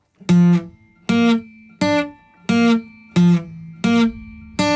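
Guitar strings are plucked one at a time in an even rhythm, seven distinct notes ringing briefly with short gaps between.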